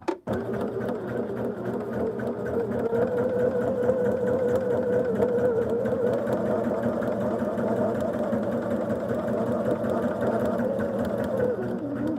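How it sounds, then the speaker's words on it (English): A sewing machine stitches fabric quilt blocks in one continuous loud run, its motor humming and the needle chattering at a steady pace close by. "So let's turn this over and stitch on that line."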